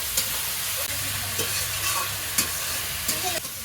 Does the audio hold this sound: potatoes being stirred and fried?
yes